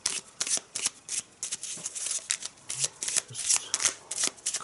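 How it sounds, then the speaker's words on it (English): A deck of Arkham Horror unique item cards is shuffled by hand at a tabletop, a quick run of crisp riffling and snapping card sounds, close and fairly quiet, with no talking. "we get out the unique item deck and we shuffle it"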